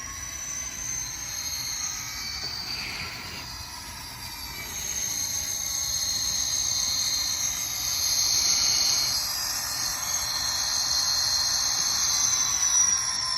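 Bachmann N scale CSX CW40-8 and GP40-2 model locomotives haul a string of Intermountain AutoRacks, making a continuous soft whirring rumble with a faint high squeal that swells slightly midway.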